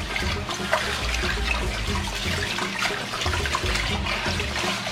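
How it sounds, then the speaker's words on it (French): Hot tap water runs steadily into a bowl of rice being washed for Ghana jollof, a continuous close splashing and gurgling rush with no talk over it. "maintenant je vais rajouter l'eau chaude de robinet"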